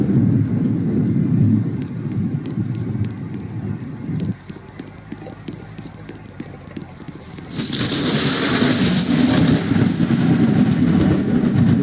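Rain and thunder in the Roblox game Twister County: a steady broadband hiss of rainfall that thins out midway, then a loud, bright rumbling surge near the end, with no talk over it.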